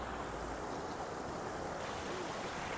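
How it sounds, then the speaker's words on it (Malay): Steady, continuous rushing of flowing water fills the scene, a broad even wash with no breaks, like a river moving past nearby. "di belakang aku ialah sungai yang mengalir indah"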